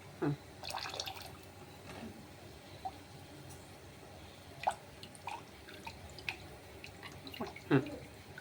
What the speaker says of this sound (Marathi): आता पाणी टाकत आहे भाजीमध्ये